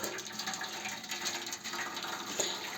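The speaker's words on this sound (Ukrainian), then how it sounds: "беру я собі бляшку і заливаю гарячу воду" Boiling water from a kettle pours steadily into a metal baking tray with a bright, splashing hiss and faint rattling, close by and continuous.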